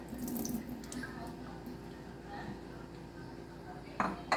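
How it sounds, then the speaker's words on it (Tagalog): Water poured into a container in a home kitchen, a soft running trickle with light clinks of dishes and utensils nearby, a couple of sharper knocks near the end, and a person talking over it. "Lagyan to rin ng water."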